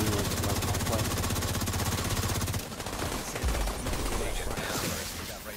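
Sustained rapid machine-gun fire in a video game as players shoot at a grate, a loud continuous rattle that eases briefly midway then resumes amid explosions and game noise.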